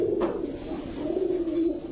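Pigeons coo at a pigeon market in a low, throaty, continuous burble lasting the whole moment, close and fairly loud, with no talking.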